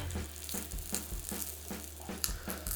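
Three portobello mushrooms sizzle in a hot pan while being pressed, a soft, close hiss broken by rhythmic pulses roughly every half second.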